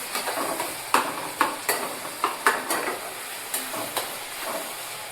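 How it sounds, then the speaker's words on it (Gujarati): Pasta with vegetables cooks in a pan on a gas stove, giving a steady sizzling hiss broken by regular spoon scrapes and clanks against the pan, close and fairly loud, with no talking. "હવે આને થોડુંક આપણે પકવા દઈએ."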